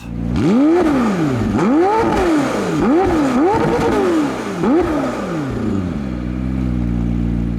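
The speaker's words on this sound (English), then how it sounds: "It has quite an exhaust note" A McLaren 765LT engine revs hard several times in quick succession, its exhaust rising and falling loudly up close, then settling into a steady idle.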